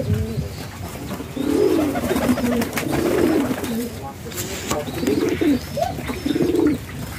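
Domestic pigeons on a farm coo in repeated rolling calls, loud and close, while a person talks beneath and between the calls.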